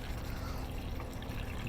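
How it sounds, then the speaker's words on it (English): Water pours steadily from a glass cup into a pot of beef curry stew, a continuous close splashing stream with no talking. "So 2 glasses of water goes in here."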